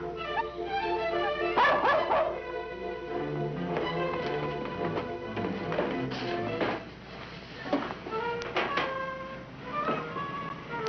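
A dog yips, barks and whimpers repeatedly in an old 1950s crime radio drama, the calls rising and falling over a dense background of music and effects, with no speech.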